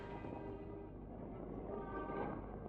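A train arrives at a railway station, its steady low rumble and rolling noise filling the scene, loud and continuous with no voices over it.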